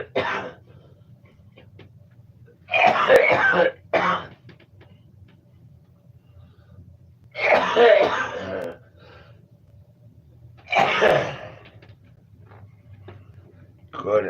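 A person nearby coughs and clears their throat in several separate bursts, with quiet gaps between them over a faint ticking background.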